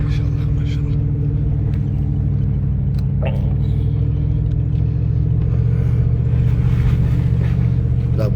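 A car climbs an uphill road through deepening snow, its engine giving a steady, close, low rumble that drones without a break the whole way.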